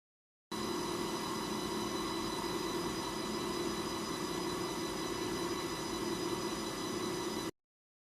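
An OMIC CNC machine runs its warm-up cycle, the spindle ramping toward 6,000 rpm while the table moves through X and Y positions, giving a steady, dense mechanical whine and hum with sustained tones, constant throughout and free of talk.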